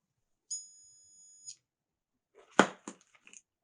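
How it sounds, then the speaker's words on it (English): A multimeter in continuity mode tests a new O2 sensor during a C10 O2 sensor replacement, giving one steady, high electronic beep of about a second, then a few brief clattering handling noises, all quiet and near. "You can hear definitely continuity on the new one."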